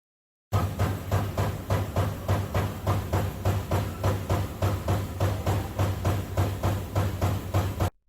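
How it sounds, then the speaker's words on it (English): An automatic punch machine punches holes in sheet metal, striking in a steady rapid rhythm of sharp, evenly spaced metallic thumps over a constant low machine hum, loud and close, with no talk. "The machine then automatically clamps the metal and moves it under the punch."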